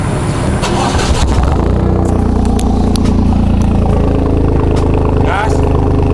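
A Toyota GR Yaris with a Remus dual muffler exhaust starts up and runs with a loud, steady engine rumble, close to the tailpipes throughout.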